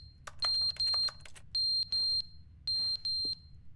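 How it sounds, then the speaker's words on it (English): An electronic alarm beeps in paired high-pitched tones, three pairs in steady rhythm, heard in a video game match over a low background hum, with no talk. "you can barely hear the alarm"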